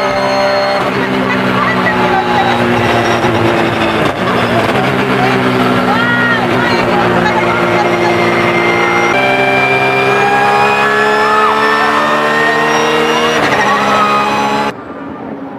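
A TAKATA Dome Honda NSX-GT500 race car accelerates hard toward 200 km/h, its loud, close engine note climbing steadily in pitch and dropping briefly at each gear change.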